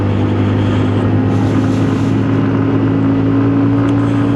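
A Lexmoto Titan motorcycle on a test ride after a brake fix, its engine holding a loud, steady drone mixed with rushing wind, with no voices.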